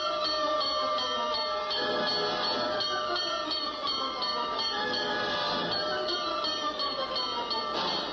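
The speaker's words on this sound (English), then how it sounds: "To the clang of bells and the shriek of sirens, Bill surges forward on his mission of mercy" Rapid metallic fire engine bells clang continuously and loudly over a rumbling background, steady ringing throughout with no pauses.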